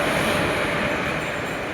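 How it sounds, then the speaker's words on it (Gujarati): A train rolls into a station, a loud continuous rumble of wheels and carriages close by, steady throughout with no talking. "ટ્રેન આવી ગઈ છે"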